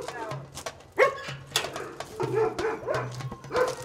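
Dogs barking at an animal shelter in Afghanistan, short yips and barks repeating at moderate distance, mixed with a low steady hum and some background talk.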